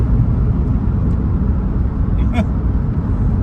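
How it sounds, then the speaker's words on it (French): A Ford Fiesta Zetec-S drives along, heard from inside the car as a steady low engine and road rumble, with someone talking over it. "C'est une petite voiture assez nerveuse, assez sympa à conduire."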